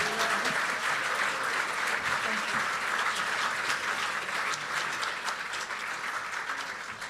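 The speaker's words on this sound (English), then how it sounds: "So ladies and gentlemen, thunderous applause" A banquet audience at a community service awards evening breaks into loud, sustained applause, dense clapping that holds steady before easing slightly at the end.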